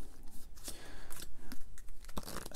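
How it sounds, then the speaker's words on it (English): A deck of game cards is shuffled close up, giving quick riffling and flicking bursts with soft slaps between them. "shuffle up the rest of this action deck here"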